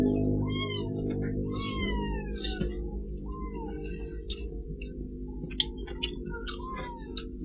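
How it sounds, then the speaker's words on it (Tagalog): Several cats meow repeatedly at mealtime, their rising and falling cries overlapping over a steady low hum, with a few sharp ticking clicks near the end. "Maingay na naman po yung mga pusa ako."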